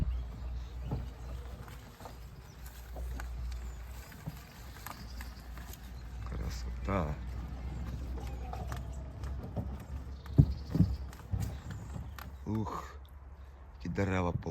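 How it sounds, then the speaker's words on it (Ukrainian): Horses with riders walk, hooves clip-clopping at a walking pace outdoors at moderate distance in an old German village, with a steady low rumble underneath and a voice speaking briefly. "Вершники тут на конях"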